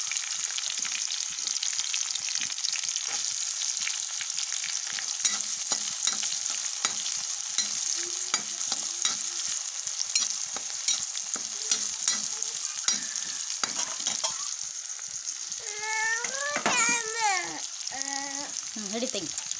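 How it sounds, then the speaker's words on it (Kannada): Onion and green chillies frying in oil for village-style churmuri susala, a continuous close sizzle broken by frequent stirring scrapes and clatter, with brief voices and tonal sounds near the end. "ಹಸಿರು ಮೆಣಸಿನ್ಕಾಯಿ ಎಣ್ಣೆ ಒಳಗೆ ಫ್ರೈ ಆದಂತೆ ಈರುಳ್ಳಿ ಹಾಕೋತಿದ್ದೋರು"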